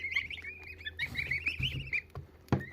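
Large geese at the water's edge give a run of quick, close honking calls, ending with one sharper loud cry.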